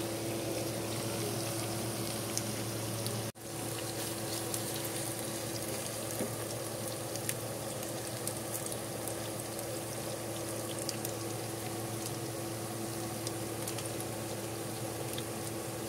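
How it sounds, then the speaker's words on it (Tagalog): Pork belly liempo fries in its own rendered fat, a continuous close crackling sizzle with scattered pops that runs steadily throughout, broken by one tiny dropout. "Lutuin na lang natin sa sariling mantika."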